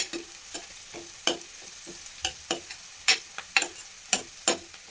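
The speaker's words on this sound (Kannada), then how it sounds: "ಈ ರೀತಿ ಚೆನ್ನಾಗಿ ತಿರುಗಿಸ್ಕೋಬೇಕು" Chili powder being stirred into sprout curry frying in a pan, with repeated scraping strokes of a spoon against the pan over a soft sizzle, close and steady, no talking.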